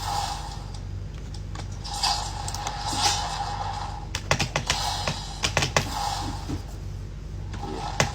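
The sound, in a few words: typing on Bugha gaming keyboard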